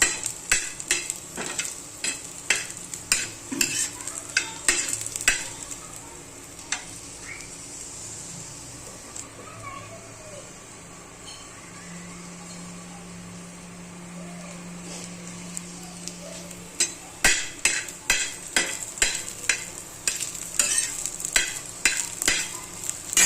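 Ingredients for a dried Bombay duck gravy roast in a pan, with bursts of rapid spatula scraping and clinks against the metal over a soft sizzle, a quieter stretch in the middle before stirring resumes briskly.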